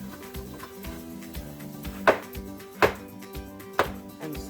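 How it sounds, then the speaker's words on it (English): A knife cuts a baby carrot in half and slices it into matchsticks on a cutting board, a few sharp distinct chops spaced about a second apart over a steady hum. "if you have a baby carrot like this, all you have to do is cut it in half"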